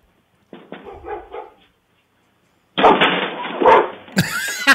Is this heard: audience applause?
no